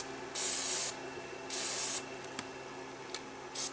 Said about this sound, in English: Just do a quick spray on these switches